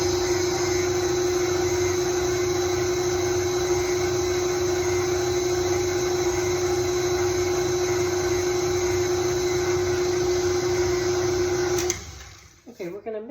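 An electric stand mixer whips cookie icing made with meringue powder, a steady loud motor whine holding constant for most of the clip before cutting off abruptly near the end.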